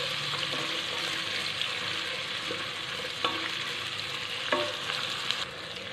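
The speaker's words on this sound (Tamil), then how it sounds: "வெங்காயம் நல்லா வதங்கட்டும்" Onions sauté in a pan for chicken biryani, a constant close sizzle broken by a few light clicks of a stirring spoon, with no voices.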